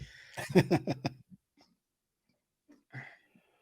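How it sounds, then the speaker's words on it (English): Hiccups from a man, a short burst of throaty, jerky vocal spasms up close, followed by quiet and one more faint catch of breath. "I've got the hiccups today."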